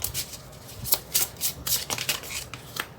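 Tarot cards being shuffled by hand, a quick run of crisp riffling and rubbing bursts close to the microphone, with no talking.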